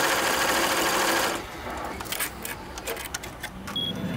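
Commercial embroidery machine stitching a design, a dense rapid mechanical whir for the first second followed by lighter, irregular clicking and tapping of the needle mechanism.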